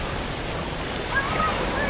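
Ocean surf washes onto a beach in Vietnam with a steady broad rush and wind noise on the microphone, close and continuous.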